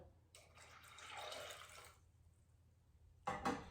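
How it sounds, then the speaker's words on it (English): Water pours into a pot of dal makhani in a kitchen, a soft sustained splashing stream for about two seconds, followed by a short louder gush, quiet with no talk. "And then I will add some water."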